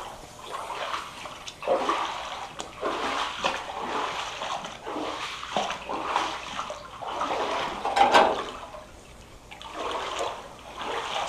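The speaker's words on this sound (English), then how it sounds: "All the water that's coming out onto the sidewalk is running down into the grass." Water pumped from a flooded basement pours out onto a sidewalk and runs into the grass, a steady, close splashing wash that swells and eases in uneven surges throughout.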